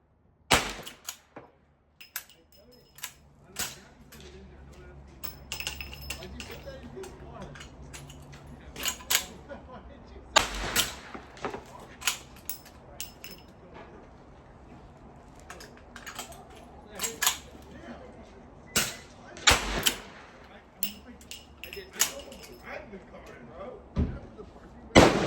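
An 1873 lever-action rifle chambered in 45 Colt is fired and reloaded: scattered loud sharp cracks and metallic clacks of the action cycling and cartridges going in, spread over a long stretch with a person talking throughout.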